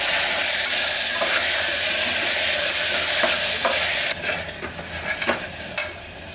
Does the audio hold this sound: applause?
no